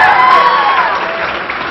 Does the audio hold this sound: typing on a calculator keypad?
no